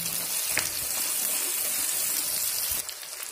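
Chopped onions frying in a pan of oil for bathua saag, a steady broadband sizzle and crackle running close and continuous throughout, with a brief clink partway through and no talking.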